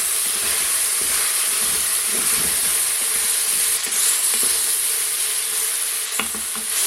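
Pork pieces sauté in a pan with a steady, loud sizzle and hiss, with faint stirring scrapes and no talking.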